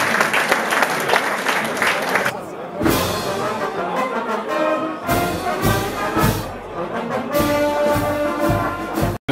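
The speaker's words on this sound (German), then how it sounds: "Ihr habt jetzt einen besonderen Applaus verdient" An audience claps at a Schützenfest, the shooting club festival in Paderborn. The applause comes in uneven waves, with tonal sounds and talking mixed in, and cuts off abruptly at the end.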